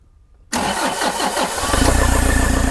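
A car engine with an electronic throttle cranks and catches after a moment of quiet, then settles into a loud, steady, throbbing idle up close, with no talk.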